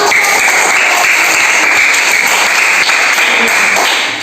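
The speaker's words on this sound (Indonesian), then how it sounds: "Oke, tepuk tangan buat kamu." A classroom of students gives loud, close applause for a classmate, a dense burst of clapping that holds steady and then trails off.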